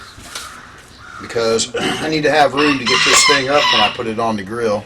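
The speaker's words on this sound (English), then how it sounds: "You hear the rooster crowing." A rooster crows repeatedly nearby outdoors beside a grill smoking beef tenderloin, its loud, rising calls overlapping someone talking throughout.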